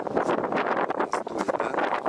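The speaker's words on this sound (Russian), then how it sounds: "Сейчас, надеюсь, ветер не сдует камеру." Gusty wind buffets a camera microphone outdoors at a villa in Alanya, a loud, steady rumbling roar with rising and falling gusts and no voices.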